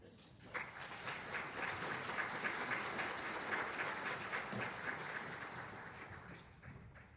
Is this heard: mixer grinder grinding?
no